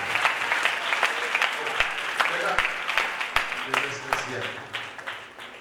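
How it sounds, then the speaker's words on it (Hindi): A church congregation claps in thanks during a sermon, a dense burst of hands beating together with a few sharp individual claps standing out, tapering off over several seconds. "ताली बजाकर उसके नाम को धन्यवाद करें"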